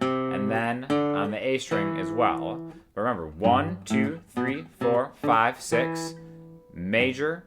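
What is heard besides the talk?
No everyday noise stands out behind the speech.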